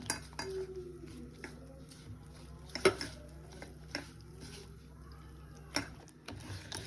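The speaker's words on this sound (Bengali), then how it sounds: "অল্প অল্প করে জল দিয়ে মাখবো" Bok phool fritter batter being mixed by hand with water poured in little by little, giving soft wet squelches and light clinks of a bowl, with a few sharper knocks near the start and end.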